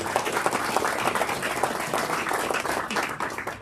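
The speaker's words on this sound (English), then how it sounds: "a big round of applause to all the players really coming back" Banquet crowd at a handball nationals dinner applauding, a dense steady round of many hands clapping that holds at full strength throughout.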